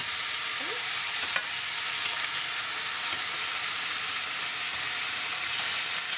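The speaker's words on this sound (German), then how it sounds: "Jetzt sind wir schön angebraten und wir gehen jetzt wieder aus der Pfanne." Beef roulades fry in a hot pan with a loud, steady sizzle and hiss that continues without a break, with a few faint clinks of stirring under it.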